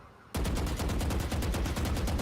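A video game gun opens up in rapid automatic fire after a short quiet moment, a dense, loud, evenly paced burst of shots that continues without pause.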